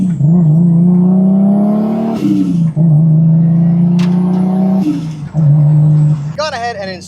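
A Lexus IS 300 with a newly installed carrier bearing, driven on the road: a steady engine drone rises through the gears, with brief dips at each shift, loud and close, and a voice briefly at the end.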